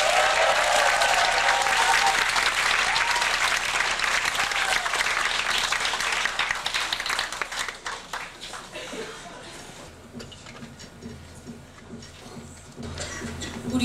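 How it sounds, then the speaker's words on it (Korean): A packed concert audience at a 1995 show bursts into loud, dense applause that holds steady for several seconds, then thins out and fades to scattered claps and quiet murmuring. "여러분들의 큰 박수 소리로"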